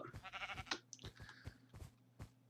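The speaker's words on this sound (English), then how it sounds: "Just shear a couple sheep and get it topped off." Sheep in the video game Minecraft bleat several times in short, wavering calls, fairly faint, followed by scattered soft game clicks and thumps.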